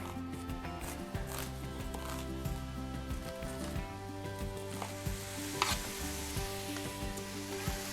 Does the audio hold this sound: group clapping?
no